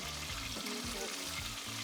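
Galunggong (round scad) fish sizzles and crackles steadily in hot oil, a close, continuous frying hiss with no talking.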